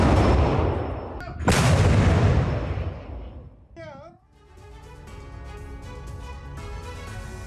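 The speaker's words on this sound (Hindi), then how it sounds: "अवदीव्का में रूसी आर्टिलरी का एक्शन देखने को मिला है।" Russian artillery fires on Ukrainian positions at Avdiivka, with two heavy, loud booms in quick succession, each rolling off in a long rumble. Afterwards a voice speaks over a quieter background.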